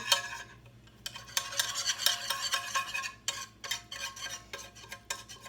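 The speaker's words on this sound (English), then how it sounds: "I'm just going to start mixing it into the flour" A utensil stirs melted fat into flour in a pan for roux, making steady scraping, tapping strokes in an irregular rhythm, close and clear with no talking.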